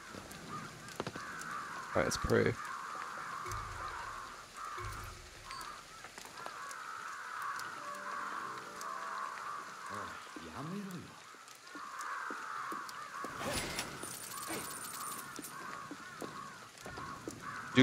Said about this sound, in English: All those crow sounds or whatever.